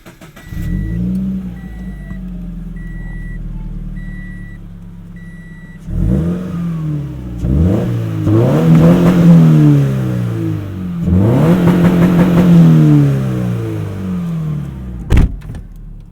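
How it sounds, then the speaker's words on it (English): A Subaru BRZ's Corsa exhaust, heard from inside the cabin with rear seats down, idles with a low steady burble, then revs and accelerates hard through several gears, loud and close, with a brief sharp click near the end. "you can really hear the Corsa exhaust extremely well when the seats are down"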